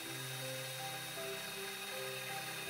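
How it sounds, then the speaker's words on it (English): A faint, steady whirring drone of a drill bit grinding through aquarium glass, with a continuous mechanical hum and no voices. "Just let the bit gently carve its way through the glass."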